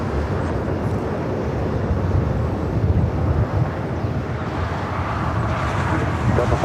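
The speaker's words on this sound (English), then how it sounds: "A380 Super heading up here to the north side." An Airbus A380 at LAX rumbles with a steady broadband jet roar, fairly loud and continuous with wind buffeting, while a voice talks over it.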